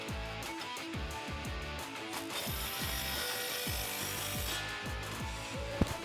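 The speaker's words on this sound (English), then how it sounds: "Grab your 14 wrench and socket and tighten that down." A 14 mm socket wrench ratchets in rapid, close clicks while tightening an exhaust tip clamp on a 2009-2021 Toyota Tundra 5.7L Flowmaster FlowFX dual exhaust system, with a steady rhythm of strokes.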